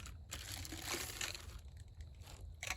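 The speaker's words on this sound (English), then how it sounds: "There's a little plastic bag" A small plastic bag being opened while unpacking a new winter camping hot tent, giving close, quiet crinkling and crumpling in uneven bursts over a few seconds.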